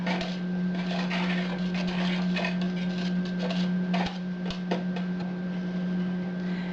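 Continuous soft scraping and tapping of a spoon stirring muffin batter in a bowl, with irregular clicks against the sides over a steady background hum.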